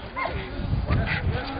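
Hunting dogs gathered for a hare hunt near a castle in Tokat, Turkey, yipping and whimpering excitedly at close range, with someone talking over them.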